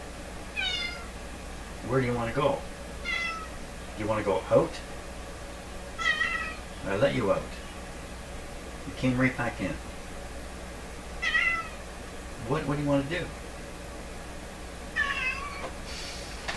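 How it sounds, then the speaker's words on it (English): A house cat meows repeatedly indoors, a series of drawn-out, fairly close cries spaced a second or two apart, while a person speaks to it between and over the calls. "I have to go and decipher what my cat wants."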